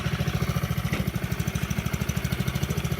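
An all-wheel-drive vehicle idles on a very cold start, its engine close and steady with a fast, even pulsing rumble and no voices over it.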